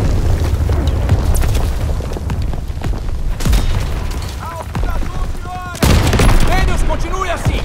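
Ammunition crates exploding in Call of Duty WWII: repeated booming explosions and gunfire bursts, dense and loud, with speech in between and a sharp blast near the end.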